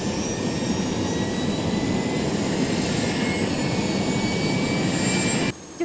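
The rotor blades of a new medical air ambulance helicopter are turned over, producing a loud, steady turbine roar and whine that holds evenly before cutting off sharply near the end.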